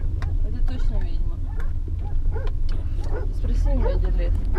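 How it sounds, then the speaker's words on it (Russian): A dog yaps and whimpers in short excited bursts close by, with people talking over it and a constant low rumble underneath. "Да, она прям гавкает"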